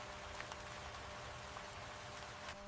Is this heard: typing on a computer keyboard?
no